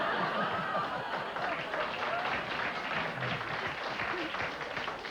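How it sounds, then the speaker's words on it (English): Studio audience at a daytime talk show applauding steadily throughout, a dense wash of clapping with scattered chuckles mixed in. "You're applauding this?"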